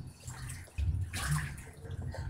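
Bathwater sloshes and splashes close by in a tub, with a heavier swell of moving water midway and gentle lapping around it, and no talking.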